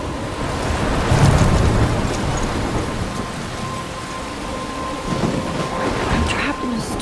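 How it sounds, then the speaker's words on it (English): Rain and rolling thunder from a storm scene in the video game Life is Strange, a steady dense wash of downpour with a low rumble swelling early and again near the end, heard alone. "I'm trapped in a storm? How did I get here?"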